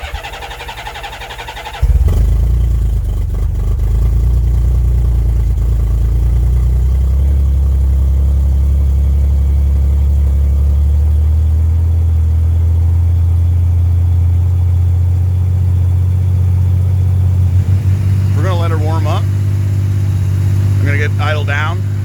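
Motorcycle engine idling in sub-freezing cold, starting abruptly and then holding a steady, loud, low rumble close by for the rest of the stretch, with a few brief higher chirps near the end.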